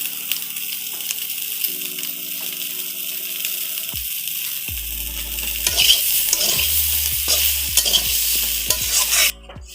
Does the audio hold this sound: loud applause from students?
no